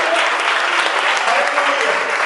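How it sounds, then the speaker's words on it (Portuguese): A congregation at an evangelical church service claps loudly and continuously for the Lord, a thick wash of many hands with scattered voices rising within it. "Aplauda o Senhor."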